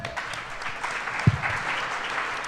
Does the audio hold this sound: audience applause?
yes